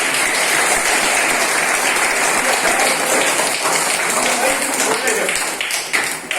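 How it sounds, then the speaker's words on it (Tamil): A crowd at a talk honouring Vivekananda breaks into loud, sustained applause, dense clapping from many hands that holds steady and then tapers off near the end. "எல்லாரும் பேர் கை தட்டலாம்."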